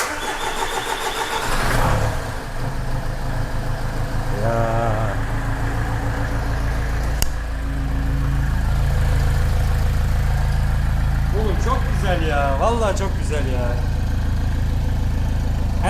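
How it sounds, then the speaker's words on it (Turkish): A Mercedes 190 W201 with a swapped OM611 electronic diesel engine cranks, fires and settles into a steady, loud idle, with people talking nearby over the running engine. "o zaman marş basalım"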